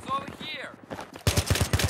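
Gunfire in the video game Battlefield 3 during a Canals team deathmatch with an AN94 rifle: someone talks briefly, then a quick burst of about seven rapid automatic shots rings out close and loud.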